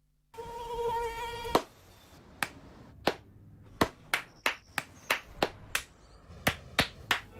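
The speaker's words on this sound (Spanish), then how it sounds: "No aplaudamos al mosquito, combatámoslo en serio." A high, thin mosquito whine hovers briefly before a sharp clap cuts it off, followed by a string of close, crisp hand claps at irregular intervals.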